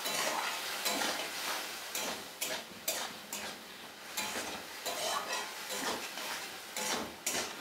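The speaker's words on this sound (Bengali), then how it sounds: "মশলাটাকে আমি ভালো মতো কষিয়ে নিচ্ছি" Spice paste being stir-fried with fried potatoes in a pan for a vegetarian banana-flower curry, with soft sizzling under repeated scraping and clinking of a spatula against the pan, close and steady.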